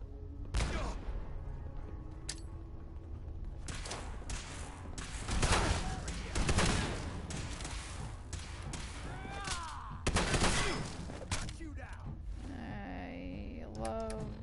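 Shotgun blasts in a first-person shooter game, several loud booming shots spaced a few seconds apart, with keyboard clatter and other game noise between them.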